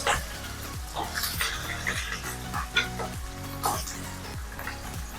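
Onions sizzle and crackle in hot ghee and oil with cardamom and cloves for a chicken fry pulao, while a spoon stirs through them in rhythmic scraping strokes, heard close with no talking.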